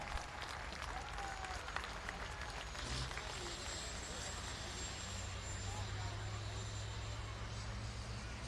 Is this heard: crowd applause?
yes